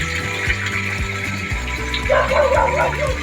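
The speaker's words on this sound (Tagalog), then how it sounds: "So, ingay ng aso." Dogs bark and yip repeatedly nearby at a concrete tilapia pond, a steady run of sharp barks over the constant rush of flowing water.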